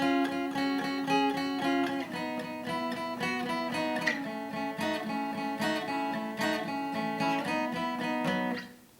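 Close, clear guitar plays a bright strummed phrase, steady rhythm with sharp accents and a repeating chord pattern, fading out at the end.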